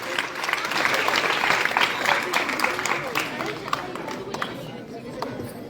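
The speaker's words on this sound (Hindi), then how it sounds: "जोरदार तालियों से सबका स्वागत कीजिए।" Applause from the audience at a block-level free bicycle distribution ceremony in Mukundgarh, a dense crowd clapping loudly and steadily with voices mixed in throughout.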